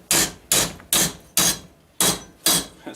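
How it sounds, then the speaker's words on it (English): A big hammer strikes soft metal on a Deere sweeper during repair work. Six loud, evenly spaced blows ring out, each with a short, bright decay. "just see what the hammer will do for this here. Big hammer."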